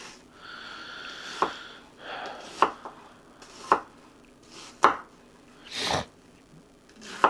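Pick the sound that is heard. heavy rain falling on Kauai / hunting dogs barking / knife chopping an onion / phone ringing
knife chopping an onion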